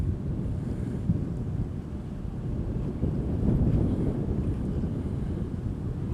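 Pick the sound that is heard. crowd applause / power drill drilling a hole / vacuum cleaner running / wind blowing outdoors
wind blowing outdoors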